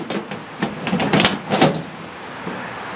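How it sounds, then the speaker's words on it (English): The door of a Big Chief front-load electric smoker is fitted into place, making a short series of knocking and scraping clatters over about three seconds. "So I'm going to go ahead and put the door on here."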